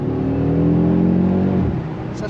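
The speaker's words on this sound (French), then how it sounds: "tu peux bien taper, vraiment pousser l'accélération" A 2021 Audi RSQ3 with all-wheel drive accelerates hard, a loud, close engine roar rising steadily in pitch before easing off near the end.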